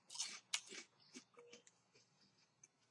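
Puffy waffle-shaped Korean pizza chips are bitten and chewed close up, a few sharp crisp crunches followed by quieter, scattered chewing crackles.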